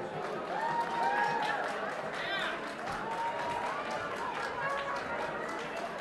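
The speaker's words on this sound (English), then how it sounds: "How about a big round of applause for Mr. Tin Pan Ellie, the Prince of Pep," An audience in a club ballroom claps for the entertainer Richard Halpern at a Dean Mora orchestra show. The applause is steady and diffuse, moderately distant, and voices chatter underneath.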